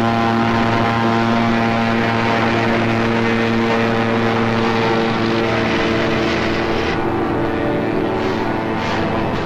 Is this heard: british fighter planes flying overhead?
yes